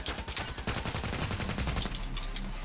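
Loud, dense gunfire from the online shooter Contract Wars, with rapid overlapping shots packed into a continuous burst that fills the short moment up close.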